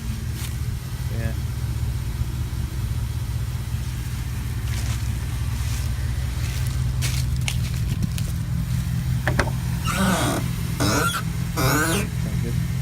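A long-idle Camaro with rod knock runs after a cold start: a steady, low engine rumble with rougher bursts toward the end, and voices talking over it.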